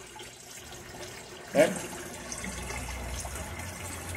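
Water from an aquaponics grow bed drains back into the fish tank in a steady, soft trickle. A single word is spoken briefly over it.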